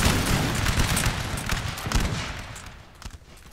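Musket volley fire in a Napoleonic Total War battle game, a dense crackling rush of overlapping shots with low booms that rolls on loudly and then fades.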